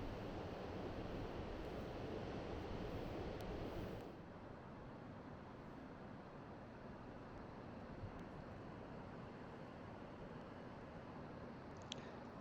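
Wind blows across a cold, breezy beach on Vancouver Island, a broad steady rush with surf-like wash, stronger for the first few seconds and then settling into a quieter, even roar with no voices.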